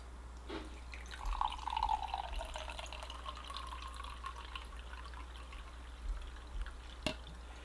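Water poured into a container of pre-workout caffeine powder, a steady soft trickling pour with light splashing for several seconds, fairly quiet and close, no talking over it.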